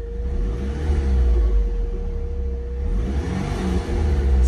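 A Mopar SRT engine revs with a steady, loud, close rumble, and a turbo spools under it. The drone holds with slight swells and no speech.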